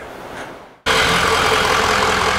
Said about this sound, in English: And then I'll go ahead and start the engine.